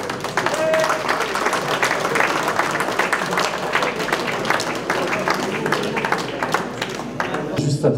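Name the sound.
applause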